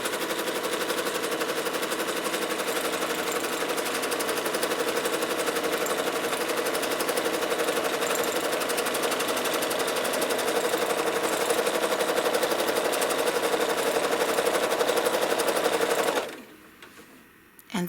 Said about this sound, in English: Now I'm going to stitch to the midpoint on the other side.